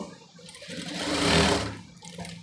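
A sewing machine runs on a maxi dress neck strip of plain fabric, a loud close whirring burst that swells and fades over about two seconds, with no talking.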